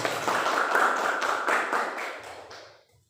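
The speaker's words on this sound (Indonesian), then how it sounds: "tepuk tangan untuk kita semua" A class of students clapping hands together in a classroom lesson on fantasy story texts, a dense burst of many overlapping claps that fades out over about three seconds.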